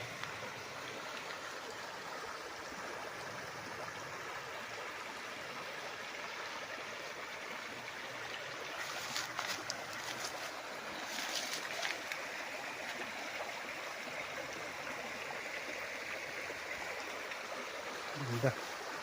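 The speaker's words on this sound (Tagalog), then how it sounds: "Ayan, ilog. Ang agos niya pag ganito." A river at a farm property in Nagcarlan, Laguna, with bamboo along its bank, flows in a steady, faint rushing wash that continues throughout with little change.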